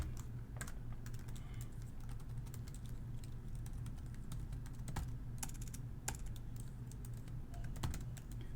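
Fast typing on a computer keyboard during an online typing game, a steady stream of quiet clicks with occasional sharper key strikes over a low background hum.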